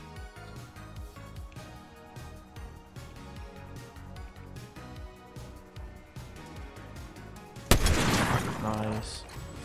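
Gunfire in Fortnite ranked play: a steady stream of rapid shots runs under music-like game sound, then a loud, bright burst of impact near the end.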